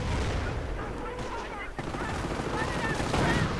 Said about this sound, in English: Anti-tank gun firing on the second Stug,